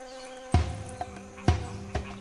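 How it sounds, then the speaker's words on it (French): Wasps arriving at frog eggs in the wild, with a couple of sharp buzzing passes and faint insect hum close by, no talking. "Certaines guêpes parviennent jusqu'aux œufs."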